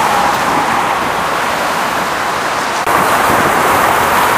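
Heavy car traffic on a bridge over the Neva gives a loud, continuous roadway roar, a dense wash of passing vehicles with no breaks.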